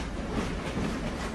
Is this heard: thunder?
no